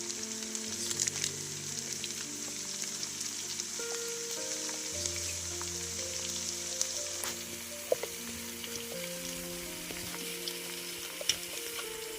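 Asafoetida sizzles steadily in hot oil for shak puri, a soft continuous frying hiss with small pops and crackles, close and alone with no voices.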